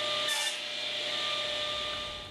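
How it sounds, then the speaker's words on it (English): A saw cuts through a 7/8 inch wooden dowel in a steady, continuous rasping stroke, close and fairly loud, with one sharper bright burst near the start and no talking. "I'm going to take a piece of the 7/8 inch dowel and cut it down to 16 inches long."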